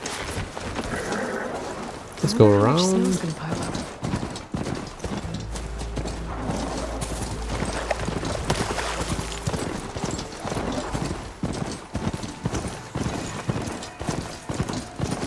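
Hoofbeats of Buddy, a smaller horse in Horizon Forbidden West, clip-clopping in a steady galloping rhythm up close, with a whinny near the start and game ambience and a brief spoken line over the hooves.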